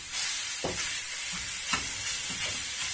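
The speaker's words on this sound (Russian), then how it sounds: "высыпаем фарш на сковородку. И тоже жарим." Minced meat frying in its own fat in a pan, with a steady close sizzle broken by several scraping stirs of a utensil, heard alone without talk.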